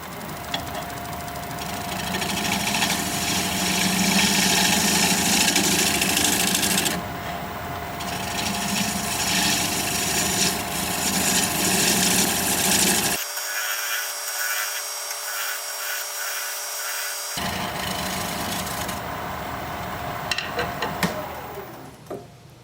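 A wood lathe cuts a tenon into sassafras, giving a steady loud scraping, rasping drone with a mechanical hum that runs for long stretches and breaks off briefly in the middle.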